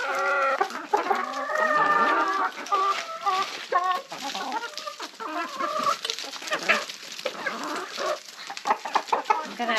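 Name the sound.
ducks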